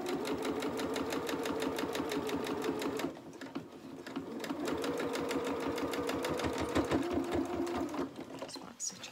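A sewing machine stitches the hem of a small cotton doll's t-shirt dress in close, steady runs, pausing briefly before racing on again, with someone talking quietly over the motor.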